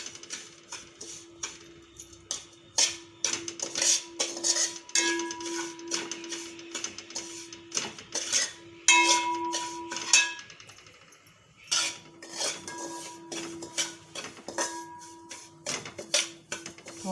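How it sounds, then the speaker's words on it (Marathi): Semolina and ragi flour are roasted in a pan, with a spoon scraping and clinking against the metal in a steady irregular rhythm of close, bright taps and a faint ringing hum, and no talking. "खरपूस असा भाजून घ्यायचा रवा पण आणि नाचणीचं पीठ पण"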